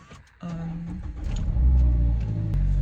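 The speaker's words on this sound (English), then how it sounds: "I just got in my car and I'm just gonna start it." A Mazda MX-5 ND engine cranks and catches in cold winter weather, then settles into a low, steady idle rumble with a slight rev, heard close up.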